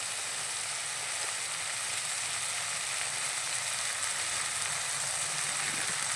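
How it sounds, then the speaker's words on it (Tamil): Ingredients for a green pea gravy sautéing in a pan, a steady, dense close sizzle that holds evenly without pause and with no voices. "இதையும் போட்டு கொஞ்சம் நேரம் நல்லா வதக்கிட்டு இது பச்சை மணம் போகிற வரைக்கும் வதக்கலாம்"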